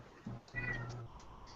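A house cat lets out a couple of short, close meows against a quiet room background, with no talking.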